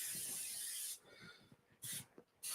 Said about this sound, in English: Baking spray is all you need. That's actually olive oil spray